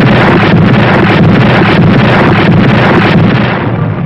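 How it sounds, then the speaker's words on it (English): Battleship USS New Jersey's great guns firing in battle, heard as a dense, continuous roar of rumbling blasts with steady pulsing thumps and heavy wind-like noise, loud and close with no speech. "Her great guns created devastation ashore."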